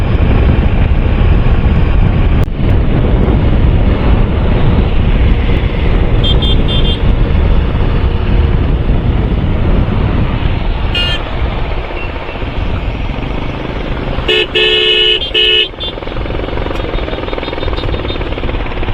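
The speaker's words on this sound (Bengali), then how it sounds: "12 নম্বর জাতীয় সড়কে স্বচ্ছন্দ গতিতে চলছে আমার বাইক" Motorcycle cruising at around 70–75 km/h on National Highway 12 in India, a loud continuous engine drone mixed with strong wind rush, with brief passing vehicles and faint horn toots along the way.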